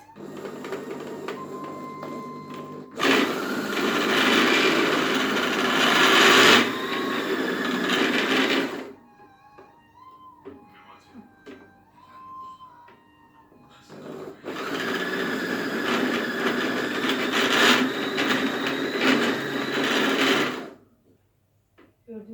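An electric juicer squeezing oranges whirs loudly in two long runs of several seconds each, with quieter clinks and handling noises and a voice between them.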